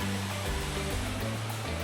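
A waterfall near Guatapé, Colombia, heard as a steady, loud rush of falling water with a deep low rumble underneath, continuous and close with no voices.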